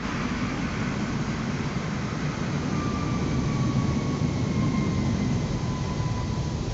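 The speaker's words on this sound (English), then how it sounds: "There's a plane taking off over there." An airplane takes off in Flight Simulator 2024, a steady broadband jet roar that builds slightly with a faint rising whine, with no one talking.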